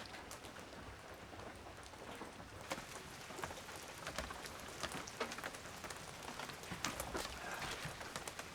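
Rain patters steadily onto a tiny cabin on a cold, damp spring day, soft and continuous with scattered louder drips.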